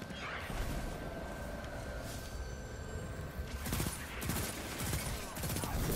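Three-round pulse rifle bursts crackle in Destiny 2 Trials of the Nine combat, rapid sharp shots repeating in clusters amid dense gunfire and game noise, loud and close, with faint voices mixed in.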